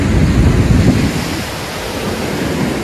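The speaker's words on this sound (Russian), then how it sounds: "как бушуется море, а?" Rough sea waves surge and wash onto the shore at a bay by a hotel in Alanya, a loud, broad roar with a strong swell early on that eases into steady churning surf, with wind noise buffeting the microphone.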